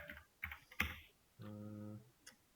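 A few scattered keystrokes on a computer keyboard as code is typed during a Spring full-stack programming class, with a brief steady tonal hum partway through and quiet gaps between the clicks.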